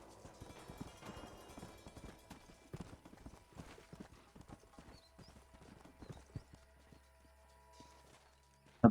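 Horse hooves clip-clopping in Red Dead Redemption, a quick irregular run of distinct hoofbeats at close range with a faint whinny, fairly quiet and without talk.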